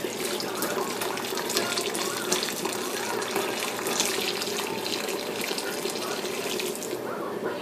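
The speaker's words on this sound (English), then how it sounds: "So you put the whole ticker full of hot water," Hot water running from a tap into a pot for bean soup, a steady splashing gush that continues for several seconds before easing off near the end, close by, with no voices.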